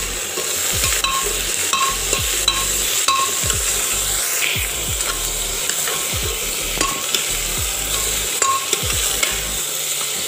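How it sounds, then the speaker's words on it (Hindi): Chopped bottle gourd, pumpkin and beans fry in a pan for sambar, a continuous sizzle broken by repeated scraping stirs of a spoon against the pan at a steady rhythm, no voices. "अब इसको अच्छे से फ्राई होने देंगे 1 मिनट के लिए।"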